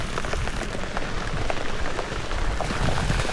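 Heavy rain of large drops pelts down steadily, a dense close patter with low thuds from the bigger drops, continuous and without any talk.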